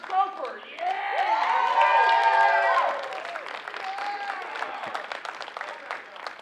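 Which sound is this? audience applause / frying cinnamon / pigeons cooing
audience applause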